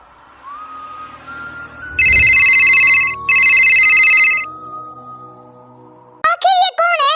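A mobile phone ringing with an incoming call, its electronic ringtone sounding in two loud sustained bursts close by, followed by a brief warbling melodic tone, after a quiet lead-in with faint background sounds.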